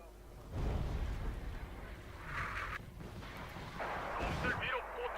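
Artillery firing in a war video game, a deep booming blast followed by rumbling, crackling explosions that roll on in the distance, with someone talking over parts of it.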